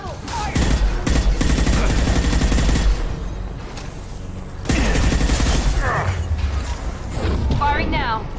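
Sustained in-game gunfire from Mass Effect Legendary Edition, dense bursts of shots and mechanical clatter through most of the stretch with a brief lull in the middle, mixed with battle effects and some voices.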